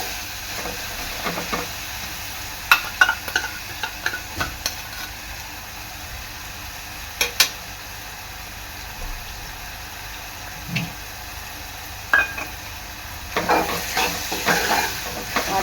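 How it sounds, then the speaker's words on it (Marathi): Ginger, garlic, chilli, coriander, coconut and peanut paste sautés in oil for a drumstick and potato curry, giving a low steady sizzle with scattered scraping spoon taps and clicks, fairly close and moderately quiet, with no talking. "अद्रक लसूण मिरची कोथिंबीर खोबरं आणि शेंगदाणे वाटण चांगलं तेलात परतून घ्यायचं आहे"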